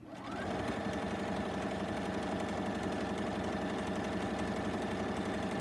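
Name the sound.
sewing machine running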